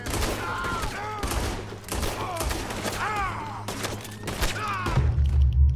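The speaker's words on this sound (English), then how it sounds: "he shot me in the face" Gunfire in the Western video game Red Dead Redemption, a rapid series of sharp shots and thumps mixed with in-game shouting voices, ending with a deep heavier boom.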